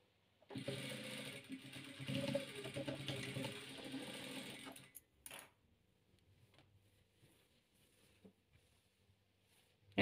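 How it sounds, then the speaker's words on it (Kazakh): Sewing machine stitching together rows of rhombus patchwork pieces, a steady rapid mechanical whir for about four seconds that stops abruptly, followed by a few faint clicks and handling noises. "Осыны тігіп аламыз."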